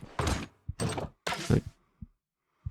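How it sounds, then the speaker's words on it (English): A door shut in the dungeon game Stoneshard: three heavy scraping, sliding bursts in quick succession, followed by short dull thuds at a steady spacing, fairly close and without talk. "So I'm going to shut that door on him."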